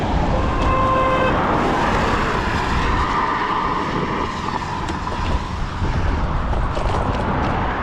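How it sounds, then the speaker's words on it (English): A lorry passes close on a wet road, a loud horn-like tone at the start followed by a broad rushing roar of tyres and spray that swells and slowly fades; no talking. "That lorry came by and threw up loads of spray"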